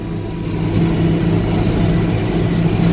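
An IH 3588 tractor travelling fast in road gear, a steady mid-to-low engine drone held at even loudness for a few seconds, fairly close, with no talking.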